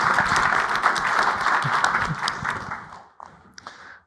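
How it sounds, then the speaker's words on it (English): An audience claps for panel speakers at a corporate climate discussion, a busy burst of applause that thins out and fades to a few scattered claps near the end. "Applause, please."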